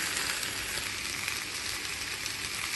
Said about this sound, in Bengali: ড্রাই ফ্রাই প্যানের মাঝে টমেটোগুলো দিলাইলাম।